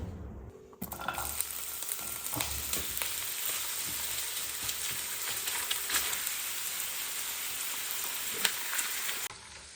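Sliced potatoes fry in hot oil in a pan at home, giving a steady, dense sizzle and crackle that holds evenly for several seconds with no talk over it.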